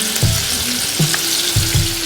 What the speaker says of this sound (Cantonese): 可以落去炸啦。